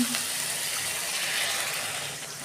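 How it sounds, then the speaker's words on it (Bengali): Water pours steadily into a pan of cooked, oil-separated spice paste for a Bengali tengra fish curry, a soft continuous gushing hiss close by with no talk. "আমি এবার জল দেবো।"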